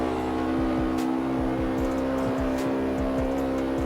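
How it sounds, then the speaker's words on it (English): A car in the racing game CarX Street accelerates hard at high speed, its loud, steady engine whine holding a high pitch while a rapid series of gear-linked pulses repeats underneath, with no talk. "So you see how the car struggled to get to 300 kilometers"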